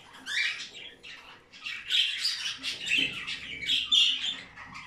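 A baby bird squawks repeatedly in rapid, insistent bursts while being hand-fed, close up and fairly loud, with no talking.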